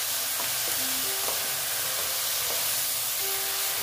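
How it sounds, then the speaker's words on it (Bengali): Eggplant salted and stirred in a frying pan with spring onion greens, steady close sizzle and hiss broken by repeated scraping strokes of a spatula against the pan, with no talking. "এভাবে ভালো মতো নেড়ে চেড়ে দিচ্ছি"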